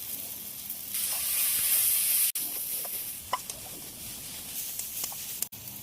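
Soybeans frying in a pan give off a loud, steady steamy hiss and sizzle, close up, with a brief sharp cut-off partway through and a few faint clicks and pops.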